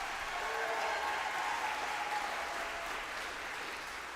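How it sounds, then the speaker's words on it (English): An audience applauds eighth grade graduates at a school ceremony, steady continuous clapping from a crowd heard at some distance and fairly faint throughout. "Let's congratulate our 8th grade scholars by giving them a round of applause."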